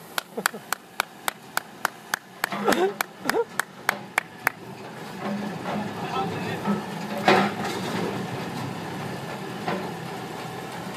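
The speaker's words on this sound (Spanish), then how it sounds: "¿Te merece un aplauso, no?" A small group of people clapping together in applause, a quick evenly spaced run of sharp claps up front, then fading into a rumbling background of idling machinery with spoken voices mixed in.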